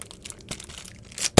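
Plastic cookie bags crinkle and rustle as they are handled up close, with a steady scratchy texture and a couple of louder crinkling bursts near the end.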